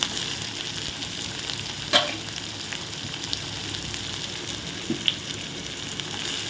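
Onions sizzle steadily in hot oil, a soft continuous crackle with a couple of scraping stirs from a utensil, frying for masala dosa filling.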